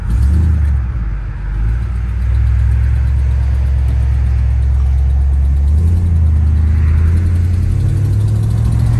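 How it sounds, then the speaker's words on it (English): A 1957 Chevrolet Bel Air engine with an exhaust leak rumbles loudly close by, a deep throbbing drone with a raspy, puffing exhaust note that briefly dips and then holds steady. "Exhaust leak, that's what the noise is."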